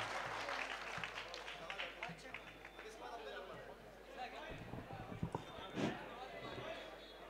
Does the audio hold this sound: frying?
no